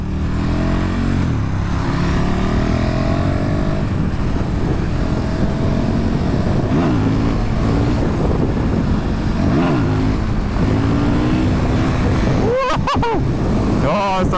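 A 2019 KTM 1290 Super Duke R motorcycle is ridden on the road, with heavy helmet wind noise roaring steadily over a rising and falling engine drone, loud and continuous throughout.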